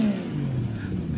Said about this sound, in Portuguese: Nossa, o som desse carro é muito malado.